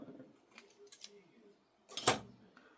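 Scissors trim paper for a junk journal collage: a few light snips close by, then a brief pause and one sharper, louder cut.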